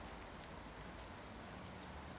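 Rain in the video game Planet Crafter falls as a faint, steady, even hiss with no breaks or talk.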